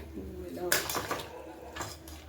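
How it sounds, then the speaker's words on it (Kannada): A cooled metal pressure cooker lid, holding mutton head and trotters curry, clanks and scrapes open up close, with a few clattering knocks and a voice faintly underneath. "ಕುಕ್ಕರ್ ಈಗ ತಣ್ಣಗಾಗೈತೆ ಓಪನ್ ಮಾಡ್ತಾ ಇದ್ದೀನಿ"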